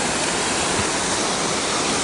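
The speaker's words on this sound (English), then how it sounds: "It's a big waterfall." A big waterfall at Big Falls in Forest Falls, California roars in a steady, dense, close rush of falling water, continuous and loud throughout with no voices.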